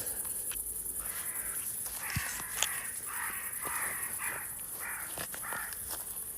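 Several crows caw in a series of harsh, repeated calls at a moderate distance over a steady high insect-like hiss, with scattered faint clicks and no speech.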